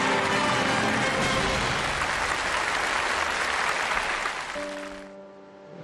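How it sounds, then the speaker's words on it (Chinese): A large studio audience applauds steadily and loudly for several seconds at a televised lecture-show award presentation, then the clapping fades as music comes in. "掌声有请陈老师为我们开奖。"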